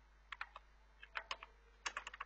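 Keys clatter on a computer keyboard in short, uneven bursts of clicks, close and quiet over a low steady hum, with nobody talking.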